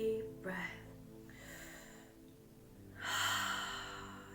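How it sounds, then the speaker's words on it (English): A slow, deep breath drawn in and let out during a calm guided healing session, with a soft audible inhale followed by a longer, breathy exhale, close and quiet with no talking. "let's take a nice deep breath"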